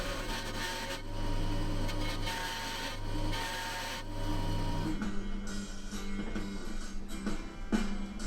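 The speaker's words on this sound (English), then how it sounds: "Then I did some shaping of the horse's head using backstrokes on the blade to carve away material." A blade shaving wood while carving a chess knight's horse head with backstrokes, a steady close rasping scrape that shifts to shorter, rougher strokes partway through.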